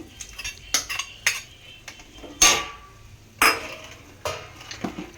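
Dry fruits dropped into sago payasam in a metal pot, with a spoon clinking and scraping against the vessel in sharp, irregular taps, close and fairly quiet, with no talking.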